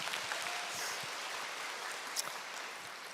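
Audience applause at a corporate success seminar, a dense, steady patter of many hands clapping, moderately distant, with occasional louder claps.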